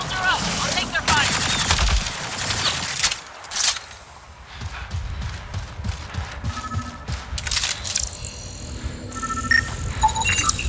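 Enemy gunfire in Mass Effect Andromeda, dense rattling automatic shots at steady loud volume, with brief pauses and sharp impacts, while a character's voice speaks over the combat.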